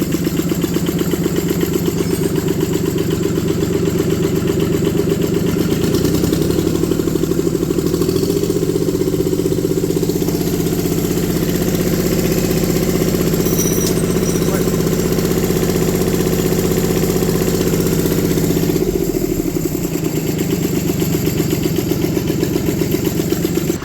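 Diesel engine running in an IH Cub Loboy 154 tractor, a loud steady rattling idle close by, rising briefly in revs around the middle before settling again.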